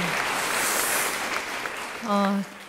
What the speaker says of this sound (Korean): 네, 박수 쳐주시기 바랍니다.